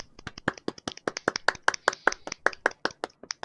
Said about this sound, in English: No, we're clapping. We're clapping.